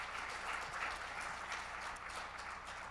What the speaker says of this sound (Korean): 박수 한번 다시 보내주시면 감사하겠습니다.